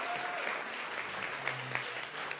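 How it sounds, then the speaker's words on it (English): Indoor audience at a budget forum gives Reverend Jesse Jackson steady, even applause, with many hands clapping at once and no pause. "Again, give him a round of applause."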